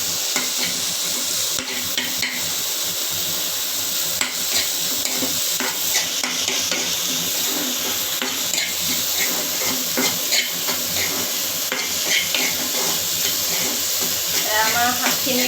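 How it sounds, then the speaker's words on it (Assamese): Dhekia fern greens stir-fried in an uncovered pan, a steady loud sizzle and hiss with repeated scraping stirs and occasional clinks of utensil on metal throughout. "এতিয়া ঢাকনখন গুচাই দিছে আৰু অলপমান ভাজিছে"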